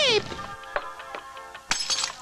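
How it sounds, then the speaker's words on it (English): Glass shattering with a quick sharp break and scattered clinking fragments, followed by a couple more crisp impacts, close and fairly loud. "This glass shattered instantly."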